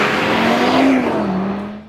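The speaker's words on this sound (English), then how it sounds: "But what really stands out is its engine sound." An Audi RS3 sedan with a five-cylinder engine revving hard, a loud rasping note that climbs, holds and then eases off as it fades near the end.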